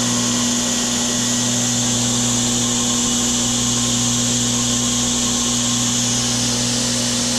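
Woodworking machine running steadily at high speed, around 8,500 RPM, after start-up: a smooth, continuous whine with a strong hum, fairly quiet, with no voices.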